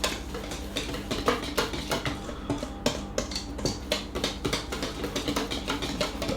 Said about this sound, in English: Now we're going to mix this up together until we've got a smooth batter.